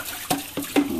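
Water running from a kitchen tap in bursts, a close splashing hiss with short surges as the flow is adjusted, no talk.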